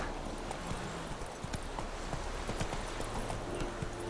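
Roach the horse clip-clops through The Witcher 3, a steady run of close hoof beats on the ground with no voices.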